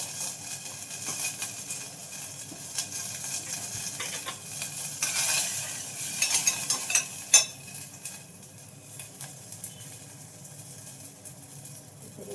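Asafoetida frying in a pan while being stirred, a steady sizzle with scraping and occasional clinks of a utensil against the pan.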